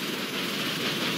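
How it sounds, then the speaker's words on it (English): Brief rumbling, steady train movement in a Roblox Thomas & Friends video game, a continuous moderately loud running sound with no speech. "Let's just take this train."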